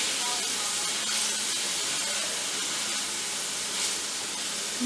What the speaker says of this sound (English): now that the ground beef has been browned all the way through